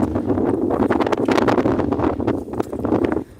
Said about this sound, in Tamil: பயங்கர காற்று மழை ஆமாம் மழையே பெய்யுது இங்கே பாருங்கள்